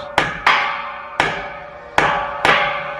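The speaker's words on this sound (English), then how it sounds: "Wow, they are pounding that in to reinforce." A metal rod being pounded into a door hinge to reinforce it during house construction in the Philippines: five sharp, ringing hammer blows at uneven intervals, close and loud, each decaying quickly, with no talk.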